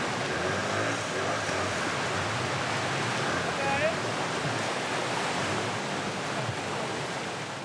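Waterfall and river rapids on a pirogue route, a steady loud broadband roar of rushing water filling the whole stretch without pause.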